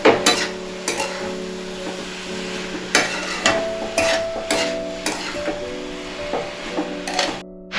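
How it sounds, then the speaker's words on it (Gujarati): Raw papaya pieces with salt are stirred in a pan, giving scraping, clattering strokes every second or so over a steady low sizzle, close and fairly loud, with no one talking. "હવે એને આપણે મિક્સ કરી લઈએ।"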